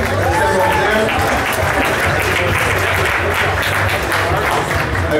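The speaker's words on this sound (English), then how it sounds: "they're over there clapping" Sustained, loud clapping from banquet guests fills the room evenly throughout, with a voice talking faintly underneath.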